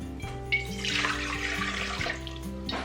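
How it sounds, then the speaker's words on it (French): Water pours steadily from a tap into a KitchenAid stand mixer bowl for bread dough, a continuous splashing stream, close and fairly loud, with a rising pitch as the bowl fills. "Donc je mets l'eau, ensuite je mets directement la levure à l'intérieur."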